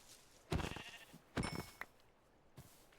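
Blocky sheep in the Minecraft GTNH modpack bleat three times: two loud, close calls in quick succession followed by a fainter, shorter one, with no talking over them.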